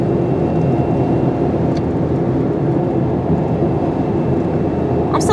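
A car drives along with a steady, loud engine rumble and road noise throughout, with no clear voice standing out above it.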